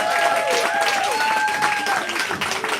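At a live poetry slam the audience claps and cheers loudly for a poet, with whoops and sustained whistle-like shouts over steady, dense applause while a host's voice carries above the crowd.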